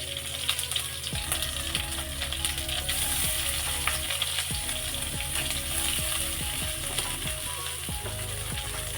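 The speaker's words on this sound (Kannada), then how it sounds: "ಸಾಸಿವೆ ಹಾಕಿದ್ದೀನಿ, ಬೆಳ್ಳುಳ್ಳಿ ಹಾಕ್ತಾಯಿದ್ದೀನಿ" Mustard seeds and garlic fry in hot oil for a radish palya, giving a close, constant sizzle broken by sharp popping and crackling bursts, with no voices.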